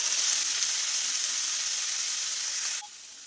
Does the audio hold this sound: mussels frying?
yes